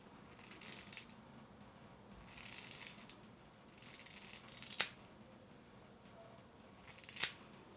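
Scissors trimming straightened hair cut from a ponytail during an at-home layering, heard as a few faint crisp snips spread through quiet, with two sharper clicks standing out near the end.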